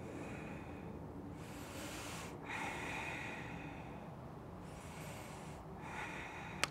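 Slow, steady breaths, in and out through the nose, while holding a yoga half moon pose, close and quiet, two or three long breath cycles with no talking.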